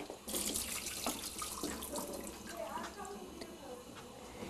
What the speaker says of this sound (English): Now that I have fixed my film, I'm going to pour out the fix into the sink.